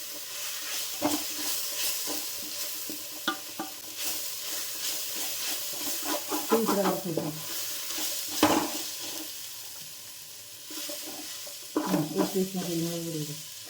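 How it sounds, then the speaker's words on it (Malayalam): Onion and curry leaves sautéing in a pan, a steady sizzling hiss broken by scraping stirs and a few clanks, with voices speaking intermittently over the cooking. "അതും ഇട്ട് നമ്മൾ വഴറ്റി എടുക്കുക"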